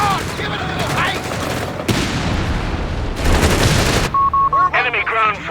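Bursts of rapid machine-gun and rifle fire rattle through a 4v4 Company of Heroes 3 battle, loud and close. Shouted unit voice lines and a short beeping tone come between the volleys.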